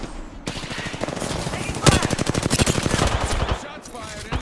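Rapid automatic gunfire in the video game Apex Legends, a dense sustained burst of shots close and loud, with a short pause and then another long stream of rounds.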